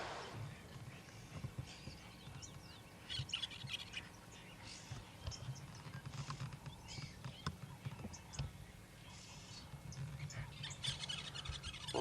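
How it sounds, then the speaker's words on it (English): Birds, including fish eagles, chirp and call intermittently in the distance over a low outdoor rumble on a sunrise safari, with a few sharper tweets standing out now and then. "hearing the sounds of the birds"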